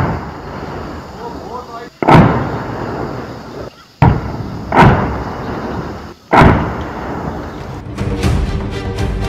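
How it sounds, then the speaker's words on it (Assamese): Gunfire rings out during a shootout between militants and CRPF forces in Batamaloo, Srinagar: three loud, booming reports spaced about two seconds apart, each echoing over a dense, rumbling background. "শ্ৰীনগৰৰ বাটামালুত গুলীচালনা।"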